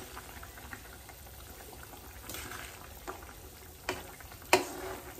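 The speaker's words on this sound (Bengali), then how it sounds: "কিছুক্ষণ ঢাকা দিয়ে ফুটতে দেবো" Tengra fish curry with potatoes simmers in a covered pot, a faint low bubbling hiss broken by a few sharper pops and a light clink near the end.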